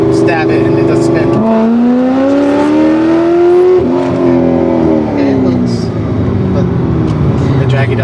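A 2009 Corvette ZR1 in third gear pulls hard at wide-open throttle, its engine note climbing steadily, dipping briefly near four seconds, then rising and easing off, loud and close from inside the car with a voice talking over it.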